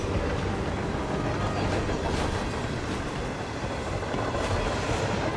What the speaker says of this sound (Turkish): Abi şaka yapıyorsun, trendeymişiz.